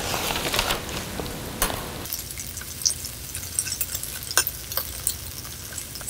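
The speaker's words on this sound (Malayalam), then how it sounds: "സവോള ഒരു ഗോൾഡൻ ഷെയ്ഡ് ആകുന്നത് വരെ വഴറ്റുക" Chopped onions sauté in a pan with salt, giving a soft steady sizzle with scattered light scrapes and clicks of stirring, close and fairly quiet, with no talking.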